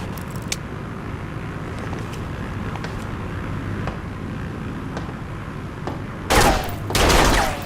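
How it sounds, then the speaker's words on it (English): Gunfire in Serious Sam 4, with scattered sharp shots over a rumbling background and then a dense, loud burst of firing near the end. "Stop shooting!"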